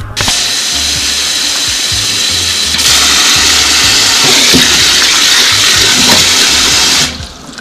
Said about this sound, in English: The next step we're going to do is wash it